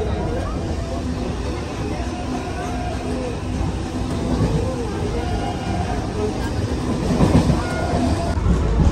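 A train pulling into Majhdia station, with a steady rumbling roar, rail clatter and rising noise throughout, under faint background chatter.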